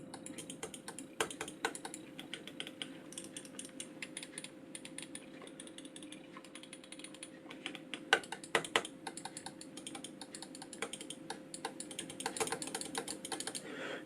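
Rapid, dense clicking from the mechanically tensioned buttons of a Logitech G403 wireless mouse, crisp close-up clicks in quick irregular bursts with a few sharper louder presses, no talking.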